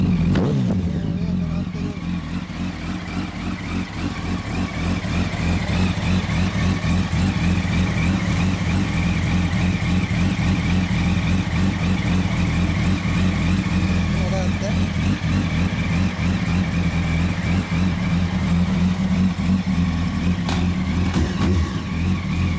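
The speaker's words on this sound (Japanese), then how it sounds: "アクラボのエンジン音聞かせて。" A 2007 Yamaha YZF-R1 sport bike fitted with an Akrapovic exhaust idles steadily, a deep continuous engine rumble held close and loud throughout, with a brief rise at the start.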